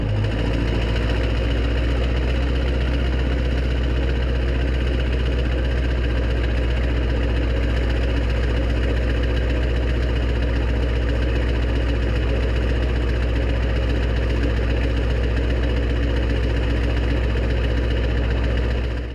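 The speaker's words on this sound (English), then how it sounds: "I'll give you a quick cold start." Ford truck engine running at a steady idle after a cold start, a continuous close, loud low rumble with a faint knocking texture and no break.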